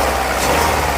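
A Volkswagen Mk4 Golf engine idling with a misfire, steady and loud with a rough low drone and a loose heat shield rattling underneath throughout.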